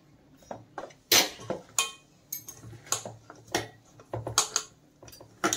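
A spoon stirs and scrapes through a besan and cornflour coating in a bowl, giving a series of clinking, tapping strokes at an uneven rhythm, close and fairly clear with no talking.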